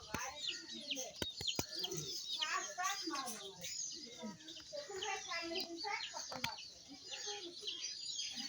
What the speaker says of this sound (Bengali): মুরগি আর হাঁসের বাচ্চা।